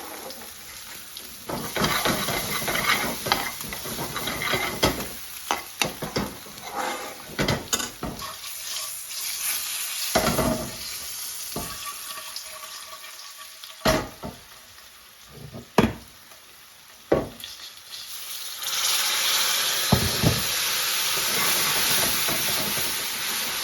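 Onions fry in hot oil in a pan while making chicken tikka bhuna, a steady sizzle broken by repeated stirring scrapes and clatters. Near the end a louder, hissing burst of frying swells up.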